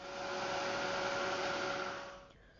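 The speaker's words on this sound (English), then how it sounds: "So I'm going to use the heat tool to dry it." A handheld heat tool blows hot air to dry a paint layer in a craft project, a steady faint whirring hiss with a tonal hum that cuts off near the end.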